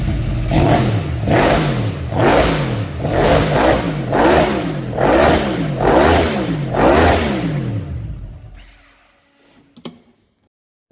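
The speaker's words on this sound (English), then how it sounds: "Yamaha golf cart, R1 motor, Fuel Tech" A Yamaha golf cart fitted with an R1 motorcycle engine and Fuel Tech management revs hard in about seven loud, rhythmic bursts, each rising and falling, before cutting off and a few faint clicks follow.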